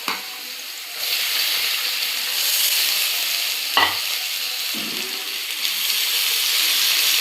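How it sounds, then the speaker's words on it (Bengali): Fish frying lightly in hot oil, a steady close sizzle and hiss broken by a couple of brief scraping touches of a utensil. "এক করে মাছগুলি ভেজে নেব হালকা করে।"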